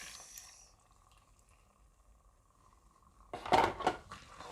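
Sauce solution is poured into a pot of beans cooking over a low fire; a faint hum and soft bubbling give way to a brief, louder burst of splashing and clinking of the pot.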